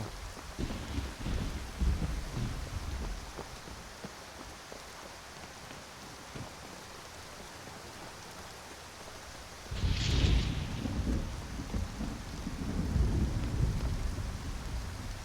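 Steady rain hisses through a Skyrim Special Edition scene, with a deep rumble of thunder rolling in near the start and another louder crack and rumble about two-thirds through.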